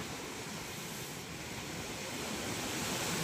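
Strong sea waves surging ashore during a storm, a constant loud broadband roar of surf with no distinct breaks, close and unbroken.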